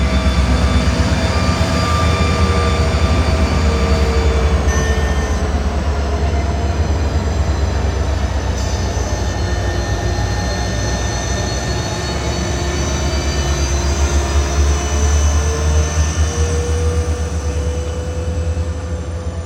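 Train locomotives rumble past close by for the whole stretch, a steady heavy roar of engines and wheels with droning tones, no voices, at 10th Street, Lakeland.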